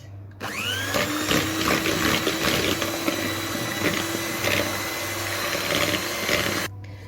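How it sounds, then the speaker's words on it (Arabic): An electric hand mixer beats sugar and eggs for a cake, a steady close-up whir with a constant motor hum, running alone without pause and then cutting off. "نضربوا هذا السكر والبيض حتى يطلع لي الخليط يولي لي ابيض"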